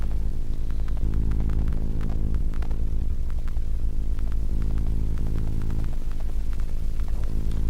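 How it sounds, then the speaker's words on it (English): Dense electronic feedback texture from a harmonizer looped into a glitch effect, a steady droning hum with stacked low tones, stuttering clicks and sporadic crackling bursts throughout, loud and continuous with no voices. "This process of feedback between the harmonizer and the glitch effect can actually be fed back in order to obtain a more drastic texture"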